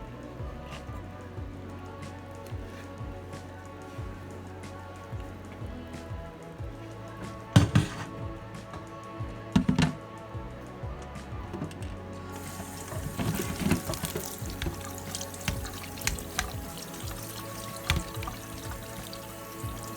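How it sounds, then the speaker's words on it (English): Running tap water splashes steadily at low volume, with a few louder clatters and knocks as canned food is rinsed under the stream. "I'm going to rinse them off underneath some running water."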